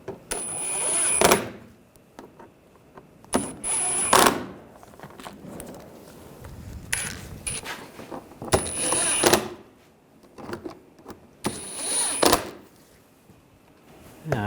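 Ratchet or wrench snugging down bolts on a Volkswagen Tiguan thermostat housing, a series of close metallic clicking bursts separated by quieter pauses.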